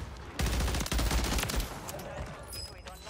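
Burst of gunfire in a shooter video game, a loud cluster of shots at the start followed by scattered trailing shots and echoes, with a faint high tone near the end.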